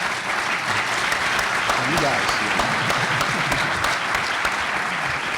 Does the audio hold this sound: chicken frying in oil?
no